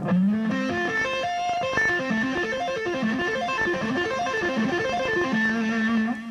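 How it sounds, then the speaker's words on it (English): Electric guitar playing triads with right-hand tapped octave notes above them, a quick, even run of bright, lightly distorted notes rising and falling, close and continuous with no voice. "what I'm doing there is just tapping on the octave."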